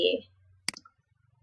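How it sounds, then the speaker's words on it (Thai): Computer mouse clicks while network analysis software solves a route: a quick cluster of two or three sharp, close clicks after a brief stretch of speech, followed by faint low ticking. "เราไปคลิกที่ solve ค่ะ เพื่อที่จะแสดงผล"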